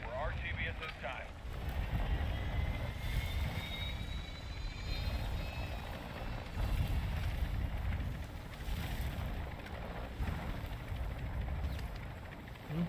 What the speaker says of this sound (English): They're shooting at my heli.